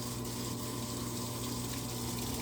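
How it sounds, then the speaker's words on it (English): A washing machine in an appliance store fills with water, giving a constant loud rushing stream over a steady pump drone, unbroken throughout with no talking. "See guys, they have the water now."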